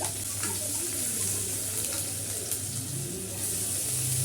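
Chopped chillies, curry leaves, ginger and garlic sizzle in a pan of oil, a steady hissing crackle that fills the scene up close without pause.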